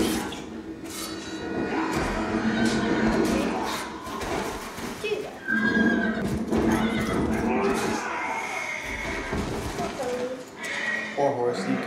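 A horse neighs and whinnies amid a Game of Thrones fight scene, with hooves clip-clopping, shouting voices and dense dramatic sound throughout, the calls loud and close over the commotion.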